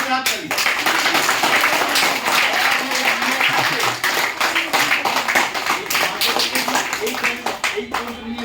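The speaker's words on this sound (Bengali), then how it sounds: "তাদের মধ্যে এই 30 জন অভিভাবকের জন্য আর একটা হাততালি।" An audience at a school yoga event claps for about thirty parents, steady dense hand-clapping from many people throughout, with voices audible alongside it.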